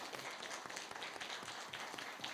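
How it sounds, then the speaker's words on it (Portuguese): Applause in a city council ordinary session, a fairly faint spread of clapping from the chamber audience, steady and unbroken through the short stretch. "gostaria de pedir uma salva de palmas mais uma vez, tanto para o Caio e para a sua família."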